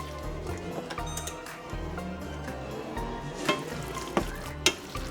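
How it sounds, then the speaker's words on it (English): Beef stroganoff being stirred in a frying pan, with a soft sizzle beneath steady scraping and a few sharper clinks of the utensil against the pan near the end. "Give it another good stir."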